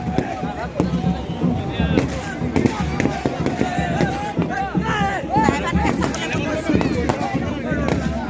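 Scattered sharp firecracker bangs go off at irregular intervals over a busy crowd with voices and chatter throughout, at a welcome celebration in Sivasagar, Assam.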